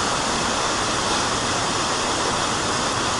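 Powerful waterfall in Bali thundering continuously, a dense, loud roar of crashing water with no pauses or voices.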